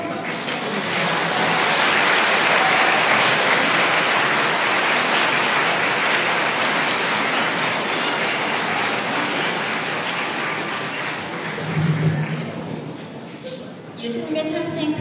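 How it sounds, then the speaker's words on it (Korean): A church hall audience applauds the St. Joseph choir at a parish music festival with loud, continuous, dense clapping that swells and holds, then thins toward the end as a voice briefly emerges. "성 요셉 성가대에게 다시 한번 뜨거운 박수 부탁드립니다."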